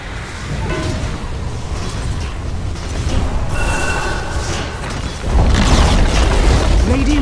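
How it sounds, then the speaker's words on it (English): Heavy booming blasts rumble through a dense wash of game sound effects as a tower is destroyed in Dota 2, with a loud, sustained low-end surge in the final seconds. "Radiant's middle tower has fallen."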